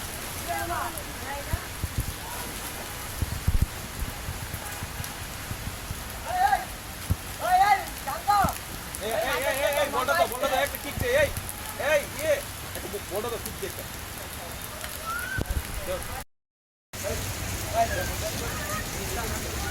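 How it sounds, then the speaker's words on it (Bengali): A steady, soft patter of light rain falling on surfaces throughout, with faint voices of people playing in the rain talking now and then underneath. "ধীরে ধীরে বৃষ্টি হচ্ছে"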